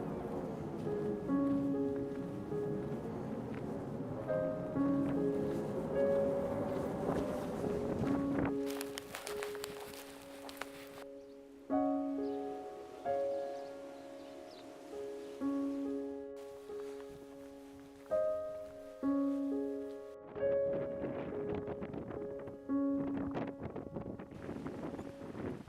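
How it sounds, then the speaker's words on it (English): Wind blowing through overhead wires in Cornwall, a steady whistling hum of several sustained tones over gusty rumble, rising and fading with the gusts, fairly faint throughout. "Wind in the wires"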